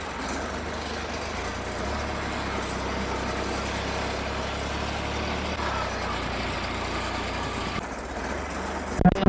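A small engine runs steadily and close by, a continuous low mechanical drone with a faint clatter near the end.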